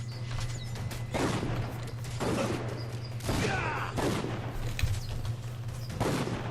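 Gunfire and cannon blasts in the video game Dungeon Siege 3 crackle in rapid bursts over a constant low hum, loud battle volleys recurring every second or so with no pause.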